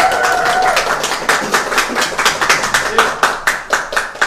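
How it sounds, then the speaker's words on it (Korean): A crowd claps in welcome as a police officer from the Gyeonggi Southern Provincial Police victim-protection unit is invited forward, a steady dense round of hand claps with a few louder individual claps standing out near the end, without speech over it. "박수!"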